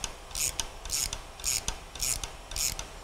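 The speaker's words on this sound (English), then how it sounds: "While holding on to the rotator handle and turning the ratcheting wrench, you're compressing the valve spring." Ratcheting wrench being turned on an AGA valve seal tool to compress a valve spring on a BMW N63 engine, giving five evenly spaced rasping strokes of similar length, close and moderately loud, with no talking.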